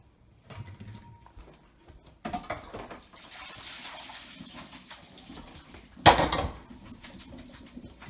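Water from blanched shrimp chow fun ingredients poured out through a strainer, a close rushing splash that builds and runs steadily for several seconds, ending in a brief sharp clatter, with no talking.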